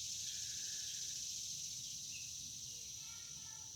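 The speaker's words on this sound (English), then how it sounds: "birds singing, insects chirping away" A steady, high drone of insects chirping fills the air while a few faint bird calls sound in the distance.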